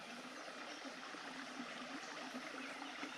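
Babbling brook of Spring Grove Creek trickling over rocks, a steady, soft broadband rush of flowing water with faint gurgles, continuous and fairly distant throughout.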